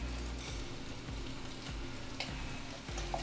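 Camp breakfast sausage with butter and onion sizzling in a pan, a steady close crackling hiss with occasional faint stirring ticks.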